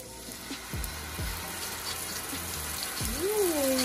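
Virgin olive oil poured into a hot pan, a steady close sizzle and crackle that continues throughout, with a few soft knocks and a brief voice near the end.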